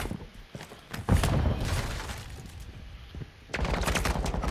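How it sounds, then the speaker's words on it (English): Dense gunfire rattles through a Call of Duty match: rapid bursts and cracks layered almost without pause, loud and close, with a short dip before another heavy volley. "God, I keep getting shot"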